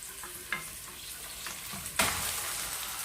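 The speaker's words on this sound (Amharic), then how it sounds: "ዶሮ ጨምረን መጥበስ ነው።" Spiced chicken frying in a pan with onions gives a steady sizzle, broken by a few sharp stirring scrapes, heard up close with no talking.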